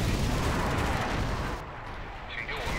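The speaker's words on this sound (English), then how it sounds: "Two missiles at once." Missile strikes and explosions in the real-time strategy game Command and Conquer Generals Zero Hour, a dense, continuous roar of blasts and gunfire that stays loud and then eases slightly, with a voice talking over it.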